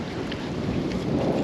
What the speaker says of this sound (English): Fucking windy out here.